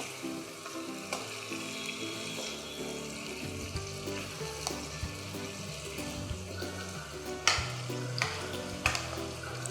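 Curd, ginger-garlic paste and turmeric are stirred into frying mutton masala, a soft continuous sizzle under repeated spoon scrapes and a few sharper clinks against the pan.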